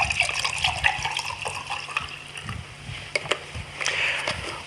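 High pH Kangen water of 11.5 pours and splashes continuously at close range, with a steady liquid rush and scattered sharper drips and gurgles, and no talking.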